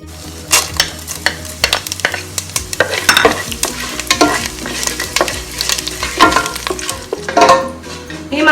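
Whole spices dropped into hot ghee for a mackerel (ayala) kizhi biryani sizzle and fry while being stirred, a continuous close crackle with scraping stir strokes throughout.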